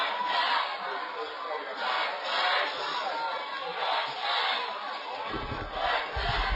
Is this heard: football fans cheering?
yes